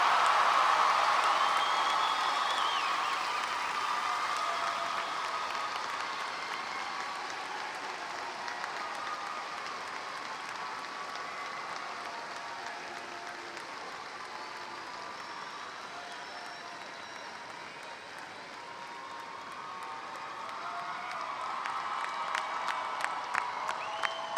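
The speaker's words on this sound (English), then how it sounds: "Ladies and gentlemen, a round of applause." A crowd at a university summer commencement ceremony in Corpus Christi, Texas, breaks into long applause with cheers and whoops, loud at first, easing in the middle, then swelling again as scattered claps sharpen near the end.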